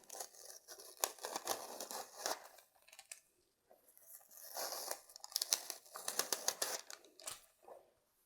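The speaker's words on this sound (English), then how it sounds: "I'm going to peel off my heat-resistant tape." Heat-resistant tape being peeled off a laser-engraved leather patch, a series of close, crisp ripping and crinkling bursts with brief pauses between pulls, fairly quiet overall.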